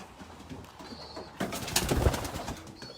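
Racing pigeons in a loft give soft cooing calls with a few brief flutters, moderately close and otherwise quiet.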